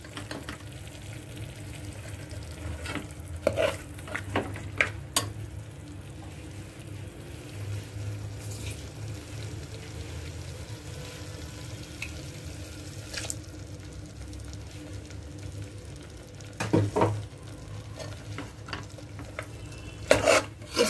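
Mutton korma being stirred and fried in a pan with almond and poppy seed paste, soft scraping and low sizzling carrying on steadily, with a few louder clinks of the spoon against the pot.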